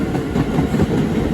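A subway train on the Rockaway line rolls past nearby, a steady loud rumble with clattering wheel noise throughout and no voices.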